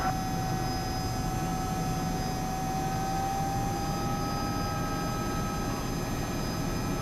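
Steady broadband engine and rotor drone of a helicopter drifting backwards off a hill on a first flight, constant and loud throughout with a faint high whine riding on top and no talk.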